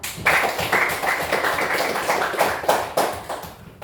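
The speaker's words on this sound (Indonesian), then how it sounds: "Tepuk tangan dulu dong." A classroom of students claps hands after debate and presentations, a brisk burst of dense, close clapping that holds steady for several seconds with a few louder peaks.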